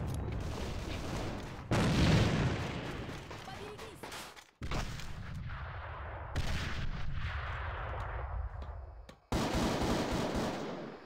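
A grenade thrown and exploding during a Rainbow Six Siege style bomb match, heard as a few loud, abrupt blasts and bursts of gunfire-like impacts separated by brief gaps, with a voice speaking over the game.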